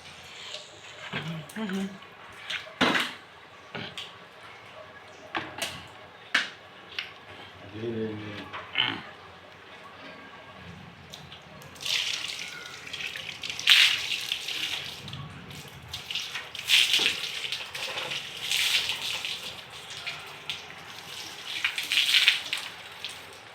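Tap water runs into a container, with an uneven gush and splash that swells louder in the second half as it fills, while people talk intermittently nearby.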